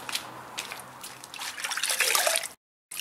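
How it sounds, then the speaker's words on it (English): Water from a bucket splashes and trickles over a car body as it is washed, a close run of wet sloshing and dripping that ends abruptly. "Then you need to grab a bucket of water and give it a good clean."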